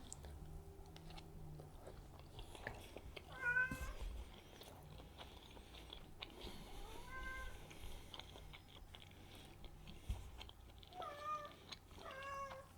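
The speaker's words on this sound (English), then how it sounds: "Hopefully Cheeto doesn't bother you guys meowing too much" A cat meows several times, short rising cries spaced apart, over a low room hum and faint chewing sounds.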